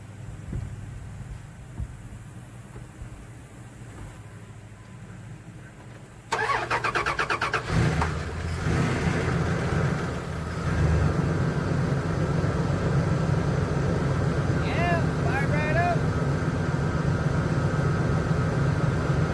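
A 2001 Dodge 1500 pickup truck, once used to haul plants, sits quietly before its starter cranks and the engine catches, then settles into a loud, steady idle up close, running on with continuous rumble.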